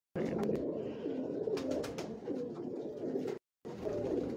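Dab pigeons, an old breed, coo steadily in a loose flock, a continuous close-up murmur of overlapping throaty coos with brief sharper bird sounds and a short silent gap near the end.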